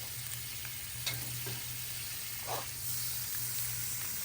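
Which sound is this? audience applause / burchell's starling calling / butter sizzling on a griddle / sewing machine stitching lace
butter sizzling on a griddle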